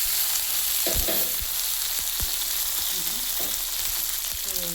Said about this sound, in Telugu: వేసుకొని పప్పులు కొంచెం వేగిన దాకా ఒక 2 మినిట్స్ ఆగాలి.